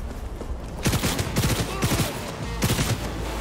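A gun firing flaming bullets in the video game Cyberpunk 2077 lets off several loud bursts of rapid automatic fire, with short gaps between the volleys over a low, constant game background.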